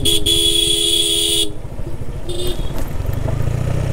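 A vehicle horn blares in one long, loud steady blast on a steep, wet, slippery mountain road to Thanchi in Bandarban. It cuts off and is followed by a brief second toot over engine rumble.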